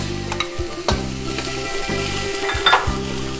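Onions tossed into a wok of sizzling shrimp stir-fry with ginger, steady loud frying hiss broken by a few scraping stirs and clatters of the spatula against the pan, close up with no talking.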